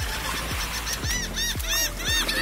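Several geese honk in a loose irregular series, close and fairly loud, with harmonic calls overlapping against a steady low background rumble.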